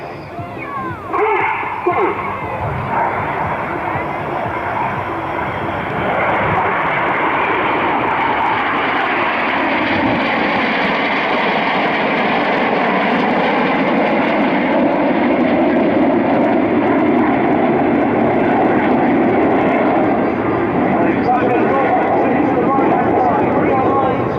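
Aerobatic display aircraft roar overhead at the Sanicole Airshow's 2015 Friday evening show, a loud, sustained engine drone that swells and sweeps in pitch as the planes manoeuvre, with a voice faintly beneath it.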